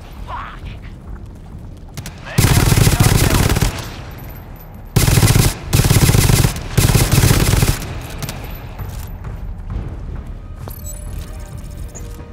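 Bursts of automatic gunfire in GTFO ring out loud and close, three sustained volleys, the middle one choppy and broken, with quiet mechanical clicks and ambience between bursts.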